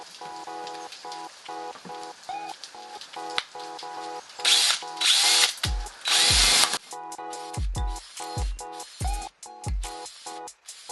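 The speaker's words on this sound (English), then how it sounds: "drill the holes in both of these bins in the bottom" A power drill whirs in a series of short, loud bursts, each one chewing through the bottom of plastic bins, with brief pauses and some background noise between them.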